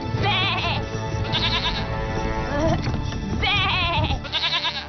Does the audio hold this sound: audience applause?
no